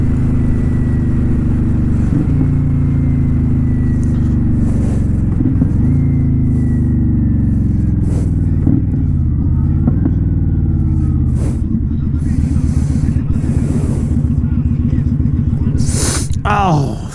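A 2018 Kawasaki Vulcan Custom cruiser rumbles steadily while riding through Las Vegas, its engine note rising and falling with repeated gear shifts and throttle changes, loud and close throughout.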